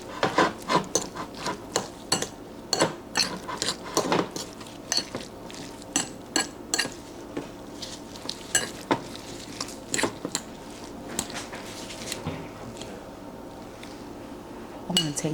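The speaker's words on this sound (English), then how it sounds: "I'm just gonna mix it up with the rice like this." Food being mixed into rice in a bowl, with spoon or utensil scraping and clinking against the dish in a string of sharp, close taps and rubs, continuing steadily for several seconds with quiet room noise between strokes.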